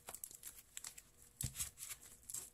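Tarot cards being shuffled by hand, a soft, faint run of papery flicks, riffles and crinkles in irregular bursts, with one sharper snap midway, close up and alone.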